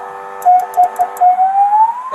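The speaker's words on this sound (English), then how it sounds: "it has a functioning siren to go with the lights, alternating sirens" A police car's alternating siren wails and rises in pitch, with short chirping bursts at the start, playing on its own at moderate volume.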